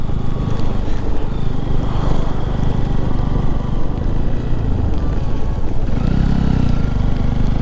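A motorcycle rides a rain-soaked mountain road from Kargil to Leh, its engine a loud, constant rumble mixed with wind and spray that stays close and steady throughout.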